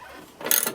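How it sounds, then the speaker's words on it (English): Ratchet wrench undoing a door bolt on an HJ45 during restoration, a brief close burst of quick mechanical clicking, loud and alone. "so I'll just undo the last bolt"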